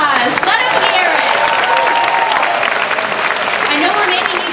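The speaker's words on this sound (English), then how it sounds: "Let's give them another round of applause. Let them hear it." A large crowd at the Disney's Hollywood Studios 35th anniversary ceremony applauds cast members, dense sustained clapping with some cheers and whoops, loud and continuous with a voice faintly mixed in.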